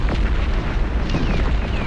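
A dense, rumbling blast of a building explosion in the PC game Cossacks: Back To War, with crackling debris, loud and sustained for a couple of seconds.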